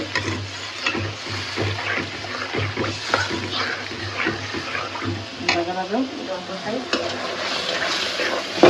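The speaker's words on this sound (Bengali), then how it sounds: "সুন্দর করে মশলাটা আমরা কষাই" Spice paste with salt is stir-fried for rui fish curry, heard as a continuous close sizzle with repeated scraping stirs and some talk in the background.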